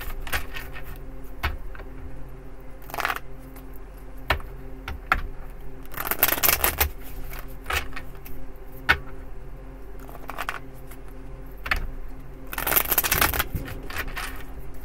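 Tarot cards are riffled and shuffled in short bursts, with quiet handling and tapping between bursts, close by and with no voices.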